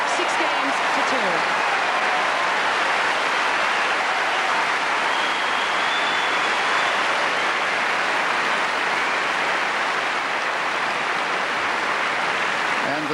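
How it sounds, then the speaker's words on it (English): Wimbledon crowd at a tennis match giving long, steady applause after the first set, a dense, even roar of clapping that holds for the whole stretch. "And the sustained applause for that"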